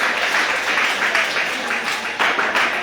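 Steady applause from a church congregation at a conference on sanctification, a dense rhythmic wash of many hands clapping at close range with no pauses.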